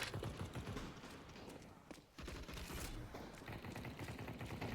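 Rapid gunfire in the Counter-Strike 2 video game: dense, continuous bursts of shots with a brief lull midway, loud and steady throughout.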